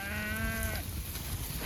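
A herd of healthy cattle on winter grazing, with one clear, drawn-out moo up close that cuts off after under a second, over steady outdoor wind and rumble.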